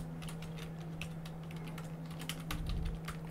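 Rapid clicking on a computer keyboard during app coding, close and fairly quiet, with a dense run of keystrokes over a steady low electrical hum.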